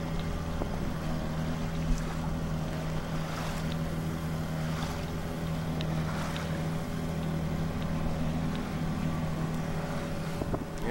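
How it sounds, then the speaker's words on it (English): A large whale watching boat's engine drones steadily with wind and water noise, a low continuous rumble that stays fairly even throughout, near Juneau, Alaska. "You have this big old whale watching boat"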